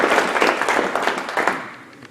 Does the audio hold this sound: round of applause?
yes